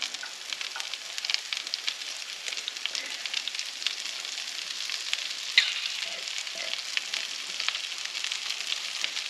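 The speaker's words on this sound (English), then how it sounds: "Now that our fat is nice and melted, I'm just going to go ahead and add this bowl full of veggies" Onion, asparagus and cabbage fry in melted fat with a steady, close crackling sizzle, dense and even throughout, with a few sharper pops rising above the hiss.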